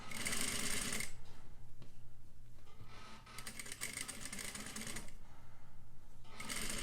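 A sewing machine stitches a bias facing around a garment neckline in short bursts, its rapid needle clatter starting and stopping between pauses at close range, with no one talking.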